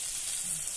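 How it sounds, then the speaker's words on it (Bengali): Chopped onions fry in hot mustard oil in a kadai, giving a short, steady, close sizzle with no talk. "তেল গরম হয়ে গেছে, আমি দিয়ে দেবো পেঁয়াজ,"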